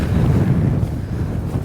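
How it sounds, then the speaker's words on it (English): Wind buffets the microphone on an exposed fell top, a loud, continuous low roar with no voices. "It's a breezy one."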